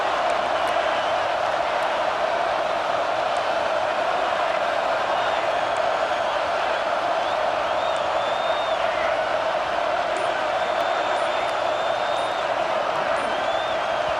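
Oklahoma Sooners fans in a home stadium crowd from EA Sports College Football 26, roaring on third down with a steady, dense wall of crowd noise and scattered whistles throughout.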